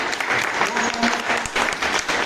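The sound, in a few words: loud applause from the audience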